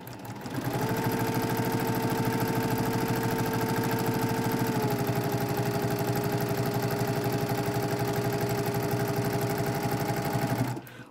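Sewing machine stitching quilt pieces together at a fast, even speed, a continuous rapid mechanical hum and clatter that runs steadily for about ten seconds and stops abruptly, close with no talking.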